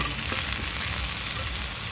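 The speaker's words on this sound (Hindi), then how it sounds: "अब इसमें हम आलू डाल के और आलू को थोड़ा क्रिस्पी होने तक भूनेंगे" Steady, dense sizzling of potatoes frying in hot oil until crispy, close and continuous, with a bright crackling hiss throughout and no voices.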